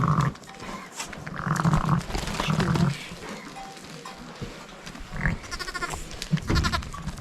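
A newborn, nearly hairless lamb bleats several times up close in a snowy farm setting, with quieter calls and rustling between the cries.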